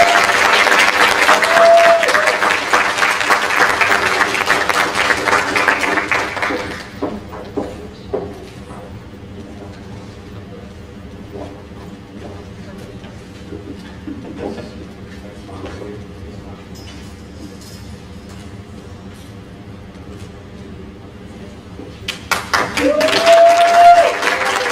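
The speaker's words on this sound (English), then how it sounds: "Clap it up for Annalise." An audience at an end-of-year education scholars celebration claps loudly for several seconds, the applause fading into a quieter stretch of room noise before a fresh burst of clapping near the end.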